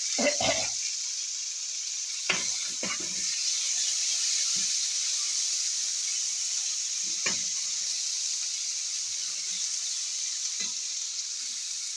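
Food fries in hot oil with a steady, bright hiss throughout, broken by a few sharp clicks and clatters of the pan or utensil. No one speaks.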